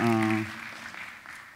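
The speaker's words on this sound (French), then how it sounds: "il faut l'applaudir" Audience applause welcoming a speaker at a talk, a soft spread of clapping that rises just as a voice finishes speaking and continues at a low, even level.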